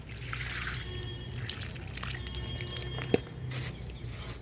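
Water from soaked onion and potato peels poured onto a lemon plant's soil, a faint steady trickle with a brief sharp drip or splash partway through.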